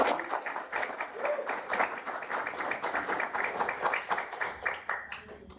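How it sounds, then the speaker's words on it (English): A small audience at a school board meeting claps for a student, a steady patter of hand claps lasting several seconds at moderate volume. "But I would just love to give Jack a round of applause"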